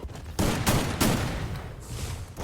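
Gunfire in the mobile shooter game Free Fire, a couple of sharp loud shots followed by a brief burst, close and dense, then lingering noise, with no talk.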